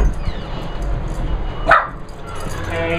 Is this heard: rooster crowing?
no